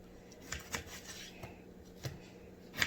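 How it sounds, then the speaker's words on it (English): A knife chops through potatoes on a cutting board for chicken potato soup, a handful of separate close taps and slices spaced irregularly over a soft background. "You just cut them up."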